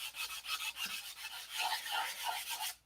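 Rough hand sanding with 180-grit sandpaper on the nose glass of a P-47 model gives a close, quiet run of rhythmic back-and-forth rasping strokes.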